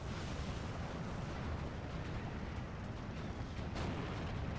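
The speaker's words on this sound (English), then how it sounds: "The mortar follow-up seems a little excessive." A mortar barrage in the war strategy game Steel Division 2 rolls on as a dense, continuous rumble of overlapping explosions, loud and unbroken throughout with no voices.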